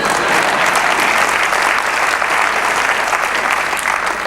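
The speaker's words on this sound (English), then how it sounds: "you can clap, it's okay." Steady applause from a keynote crowd, with many hands clapping together in a dense, continuous wash that fades slightly toward the end.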